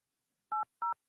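A phone is dialled, giving two short, clean DTMF keypad beeps with a third starting at the end, evenly spaced and close, alone in otherwise near silence.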